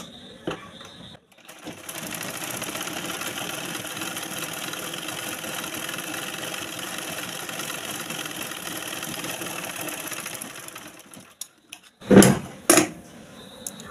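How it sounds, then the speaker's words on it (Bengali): A domestic sewing machine runs a steady, continuous stitch along a fabric edge for about ten seconds after being repaired for puckered stitching, close and even, followed by a couple of brief handling clatters. "এবার আমি একটা সেলাই করে দেখি যে আমার মেশিনটা আদৌ ঠিক হলো কি না। তো আমি এই কিনারে সেলাইটা দিচ্ছি"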